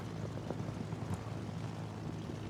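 In the World of Warships video game, a plane flies over ships, a steady, dull droning rumble under a low, continuous wash of engine and wind noise.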